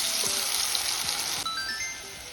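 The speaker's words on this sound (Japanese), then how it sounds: "高温の180度で、しっかりと短時間で揚げていきます。" Udo mountain vegetable tempura deep-frying in oil at 180°C, a steady bright sizzle and crackle of bubbling oil running throughout at close range, with faint tinkling tones and no voices.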